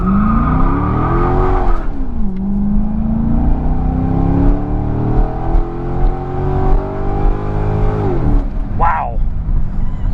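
A 2001 Mercedes S600 V12 revs at a stop sign, its loud engine note climbing, dipping and rising again over several seconds, ending with a quick sharp blip; an occupant talks briefly over the engine.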